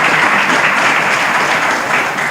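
An audience claps at a talk, a dense, loud burst of applause that carries evenly for a couple of seconds before easing slightly.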